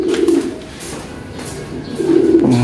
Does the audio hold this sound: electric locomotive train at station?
no